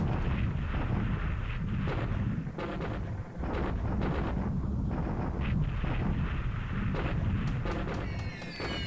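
Dense rumbling bombing explosions and gunfire from the War in the Pacific game as Zeros attack Hickam Air Base on 7 December 1941, continuous and loud with overlapping blasts and no clear gaps.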